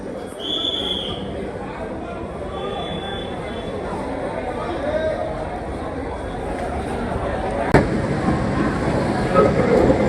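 At Ahmedabad Kalupur railway station, the Sabarmati–Darbhanga Express, train 19165, waits in a busy, rumbling platform ambience with crowd chatter, a few high tones early on and a sharp click near the end.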